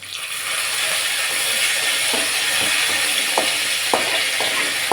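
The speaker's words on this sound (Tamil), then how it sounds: "கருவேப்பிலை பொறிஞ்சிடுச்சு" Curry leaves and urad dal fry in hot oil in a pan, giving a continuous loud sizzle with a few sharp crackles and pops near the end.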